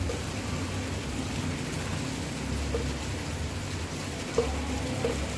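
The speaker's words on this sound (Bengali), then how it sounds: "এই যে খুব বৃষ্টি হচ্ছে" Steady rain falls as a constant hiss in the background, with an occasional faint knock.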